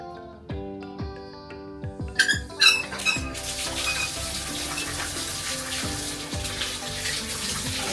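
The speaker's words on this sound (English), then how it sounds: "Now I'm going to turn the shower head on." A new shower head is switched on and sprays a loud, steady hiss of running water after a few squeaks and handling knocks at the start of a bathroom upgrade.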